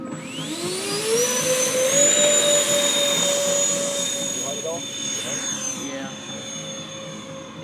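FMS v1 A-10 RC model jet climbing away with a steady rising ducted-fan whine, loud and sustained, then fading slightly as it flies off.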